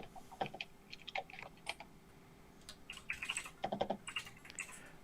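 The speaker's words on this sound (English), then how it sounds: "Oh, I hear all the tapping of the keys." Computer keyboard keys clack in quick irregular bursts during an online tabletop role-playing session, soft and nearby, with short pauses between runs of typing and no talking.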